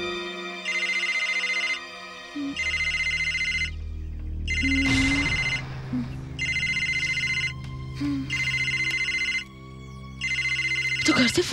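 A telephone rings repeatedly in a Bhojpuri drama scene, the call coming from home, its bursts of electronic ringing spaced with short gaps while dialogue and background music play beneath.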